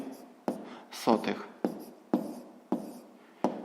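A pen writes down the answer to a sixth-grade maths exercise on paper, with short scratchy strokes coming in irregular bursts and sharp taps between them.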